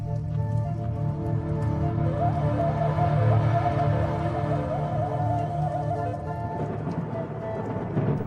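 Rain falls on a dry African bush landscape after a bush fire, a steady moderate hiss under a low droning bed of sound, continuous throughout with faint distant rumbles.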